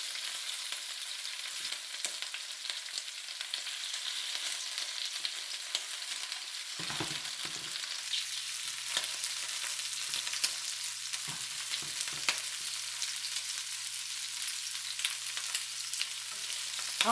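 Shrimp frying in a pan on medium heat for Chinese shrimp with white sauce, giving a soft, steady sizzle with occasional stirring scrapes and a faint low hum, with no talk.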